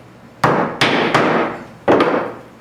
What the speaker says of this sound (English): Give it a little tap with the hammer.